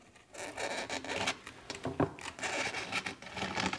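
A blade slicing skateboard grip tape from underneath, producing a continuous raspy tearing and scraping with uneven bursts and one sharper scrape midway, close and alone with no talking.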